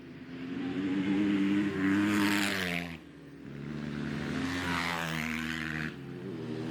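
A flat track racing motorcycle roars past twice on a dirt oval, the engine note swelling and dropping with each pass. No one speaks.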